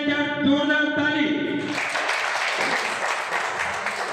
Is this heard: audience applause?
yes